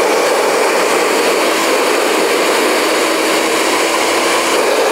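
A hair dryer runs with a steady, loud motor whir and constant rushing airflow, unbroken from start to finish.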